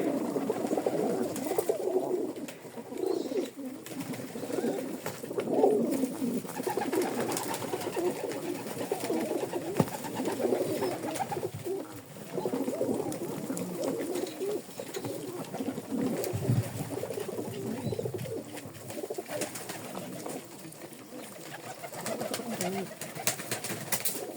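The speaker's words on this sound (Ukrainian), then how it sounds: "Та голубенятка" Young pigeons coo near food scraps in late July, soft repeated low murmuring calls that overlap throughout and sit close, with occasional quiet voices and shuffling.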